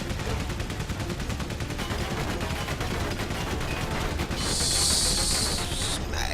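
Dense, continuous gunfire from a First World War battle in the video game Valiant Hearts: The Great War, a steady rattling barrage with a hissing burst near the end.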